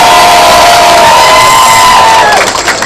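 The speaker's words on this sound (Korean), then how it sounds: "힘찬 박수 함께 부탁드립니다" A large outdoor crowd at a provincial governor's election rally cheering loudly and applauding, a dense sustained roar with a whistle-like tone, easing slightly at the end.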